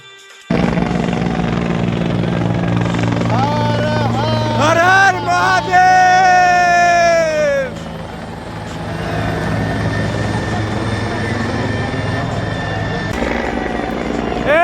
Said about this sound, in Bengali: চারিদিকে ভক্তদের মধ্যে হেলিকপ্টারে পুষ্প বৃষ্টি